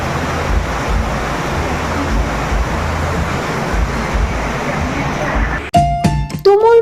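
Heavy rain and cold, stormy wind roar as a steady, loud wash in Gangtok, lasting most of the stretch before voices and clatter break in near the end.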